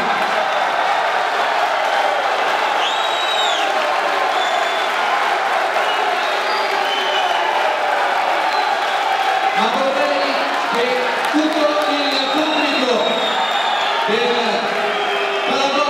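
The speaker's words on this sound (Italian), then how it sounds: "Un applauso." A boxing crowd applauds and cheers after the points verdict in the Faraoni versus Cataldo bout, a steady dense roar of clapping and voices with whoops rising near the end.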